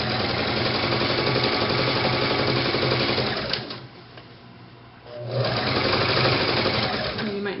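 A sewing machine stitches fabric for boutique ruffle pants in loud, rapid continuous bursts, pausing briefly in the middle before running again, close up and alone.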